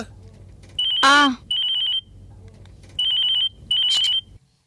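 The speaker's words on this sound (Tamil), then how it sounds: "அண்ணே போன் அடிக்குது" A telephone rings in bursts of electronic trilling chirps, loud and near, with a short spoken exclamation partway through.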